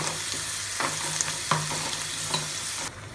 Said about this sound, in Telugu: దీంట్లోనే ఈ ఉల్లిపాయ మొత్తం వేసేస్తే త్వరగా వేగిపోతుంది